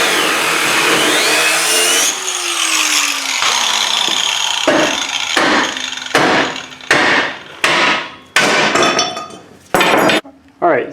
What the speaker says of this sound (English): you'll be able to hit with the hammer and knock it off.